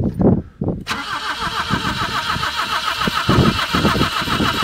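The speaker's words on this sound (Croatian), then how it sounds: "Sad ću malo sa gasom, pošto nije palio dosta dana." A car engine that had not been started for over ten days cranks briefly and catches, then settles into a steady, rumbling idle with a slightly raised rev, heard close up with no talking.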